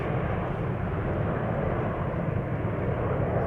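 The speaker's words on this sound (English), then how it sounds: "KLM 737 in the SkyTeam livery outbound to Lisbon" KLM Boeing 737, 22 years old and painted in SkyTeam livery, departing Schiphol for Lisbon, its engines giving a steady, loud broadband roar that holds level and unbroken throughout.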